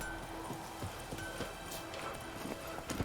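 Roach, a horse in The Witcher 3, gallops with a steady, rapid clip-clop of hooves over a constant game soundscape, moderately loud with no talk.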